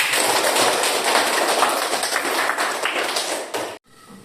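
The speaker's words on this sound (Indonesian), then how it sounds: "Tepuk tangan untuk kita semua." Classroom of children clapping together in a dense, continuous patter that fills the room, loud and steady for a few seconds before stopping abruptly.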